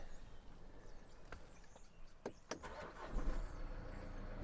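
A salvage auction car, apparently undamaged, cranks in a few short bursts before its engine catches and settles into a smooth idle, close by and fairly quiet.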